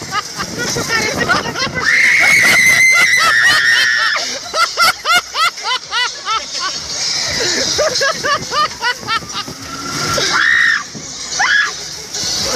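A person screams on an amusement park ride, long piercing shrieks alternating with rapid bursts of laughter-like squeals, loud and close, with other riders' voices chattering around.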